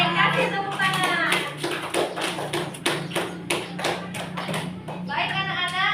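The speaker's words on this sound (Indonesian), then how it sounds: "Oke, kasih tepuk tangan." Children in a classroom clap their hands in a quick run of taps for several seconds, close and lively, with young voices talking over the start and the end.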